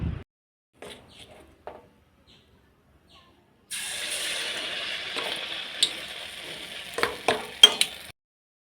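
Onion vada (ulli vada) fries in hot oil: after a few faint knocks, a steady, close hiss of sizzling starts and continues, with occasional sharper pops and stirring clicks.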